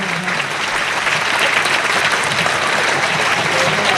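Audience at a school defence day program applauding, a loud continuous wash of clapping from a crowd lasting the whole stretch, close and even.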